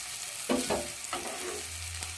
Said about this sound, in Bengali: পেঁয়াজটা ভালো করে নাড়িয়ে দিচ্ছি